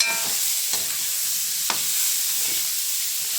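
Small tomatoes cooking in a hot pan, giving a steady, bright frying hiss throughout, with a couple of faint clicks of a stirring utensil.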